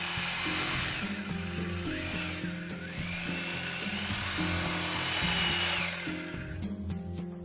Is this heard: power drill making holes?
yes